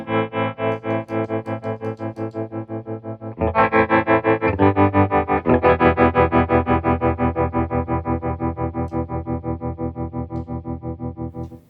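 Electric guitar through a Fender Tre-Verb tremolo and reverb pedal, playing sustained distorted chords with a steady pulsing tremolo throbbing the volume up and down, loud and continuous with a chord change partway through.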